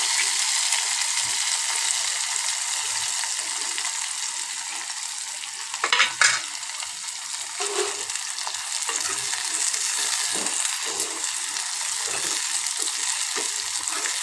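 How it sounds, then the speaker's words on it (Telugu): Prawns fry in hot oil in a kadai, a steady close sizzle throughout with a few brief scraping stirs near the middle, no talking. "మనము రొయ్యల్ని వేయించుకోవాలి ఆయిల్లో."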